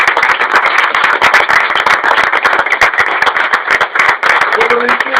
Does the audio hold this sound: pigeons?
no